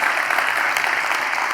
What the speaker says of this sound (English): well-deserved applause, and we should be applauding them again